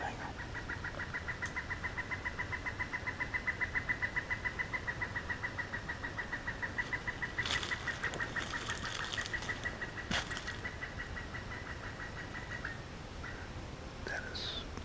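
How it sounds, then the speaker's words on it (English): A bird calls in the woods with a long, steady run of rapid, evenly repeated notes at moderate distance, fading after about twelve seconds. Faint rustling and brief thuds sit over a constant outdoor background. "That is a bird. We feel that is a bird."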